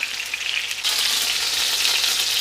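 Chicken pieces for a Mughlai chicken changezi fry in a pan with a steady, loud sizzle that grows more intense partway through and continues alone without any talk.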